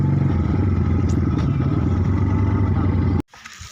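Loud, close motorcycle engine droning steadily with a rough rumble as the bike rides along, then cutting off abruptly near the end.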